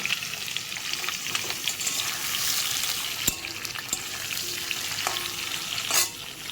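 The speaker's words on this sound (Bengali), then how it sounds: "আলুর টুকরোগুলোকে আমি লাল লাল করে ভেজে নিচ্ছি এর মধ্যে আমি দিয়ে দিলাম টমেটো কুচি দিয়ে আমি আবারও ভেজে নেব" Potato pieces and chopped tomato fry in a pan, giving a loud, continuous sizzle with a few sharp stirring knocks near the microphone and no talk.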